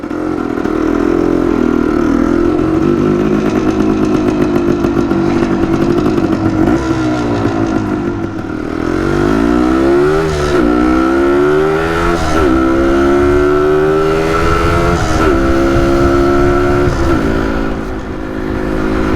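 A 1974 Yamaha DT250 motorcycle ridden through peak-hour traffic, its engine loud and close, droning steadily and then revving up and down through repeated gear changes.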